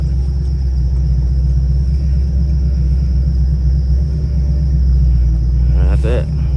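A Chevrolet Malibu idles as it warms up on a snowy day, giving a loud, steady low rumble throughout, with a brief voice-like sound rising near the end.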